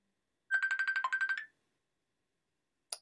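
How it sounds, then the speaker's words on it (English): A phone rings with an incoming-call ringtone, a rapid burst of bright repeated electronic tones lasting about a second, close and clear in a quiet room, followed by silence and a brief click. "Oh my goodness, I was not expecting a phone call."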